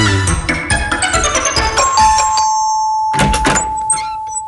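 A doorbell rings in a Malayalam comedy TV serial scene, giving several bright chiming tones that hold and ring on, with a burst of knocks and clatter partway through and no talk.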